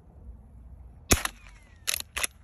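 Three sharp, dry cracks from a Marlin Model 1897 .22 rifle fired at targets outdoors, one shot then a pause before two closer shots, each short and snappy over quiet background.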